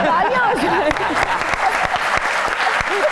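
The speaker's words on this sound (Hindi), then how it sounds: "चलें तालियां हो जाए" A studio audience on a Pakistani talk show breaks into applause, a loud burst of many hands clapping that fills the whole moment while a voice speaks over it.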